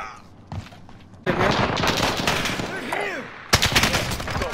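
Warzone firefight with loud automatic gunfire bursts that start abruptly, continue steadily, pause, then resume close and hard, with a player's voice calling out under the shooting.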